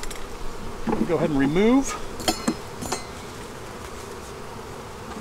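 Honey bees buzz around an open beehive during a Demaree split, a dense, steady hum near the microphone, while a voice speaks briefly and a few sharp knocks of hive equipment cut through.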